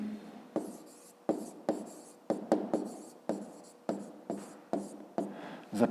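A pen writes on paper up close, a series of about a dozen quiet scratchy strokes in an irregular rhythm with short pauses between them, no voices.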